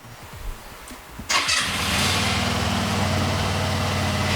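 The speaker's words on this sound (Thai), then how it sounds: "คือการวอร์มเครื่องนะครับหลังถ่ายน้ำมันเครื่องนะครับ" A 2022 GPX Drone motorcycle starts up after an oil change: a few quiet clicks and cranking sputters, then the engine catches with a sharp rise and settles into a steady, close, even idle.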